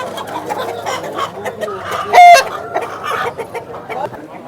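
Roosters cluck and squawk at the Vijayawada poultry market amid a busy crowd, with one louder sharp call rising briefly in the middle over steady market chatter.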